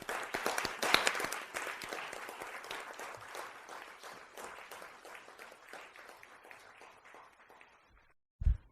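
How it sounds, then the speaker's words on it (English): An audience applauds at a Rochester, New York city council meeting, with sustained clapping that thins out and tapers off near the end. "Let's give a round of applause for Deviante"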